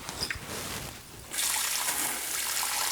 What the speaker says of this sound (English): You're going to want to swish it around a bit, making sure that all the grains are fully rinsed.